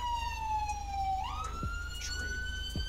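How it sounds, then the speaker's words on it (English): Police siren wailing in GTA V during an LSPDFR patrol in an unmarked Taurus around Paleto, a steady electronic tone that sweeps up in pitch partway through, loud and continuous with faint thumps beneath. "you don't have to sit there blasting your siren all day"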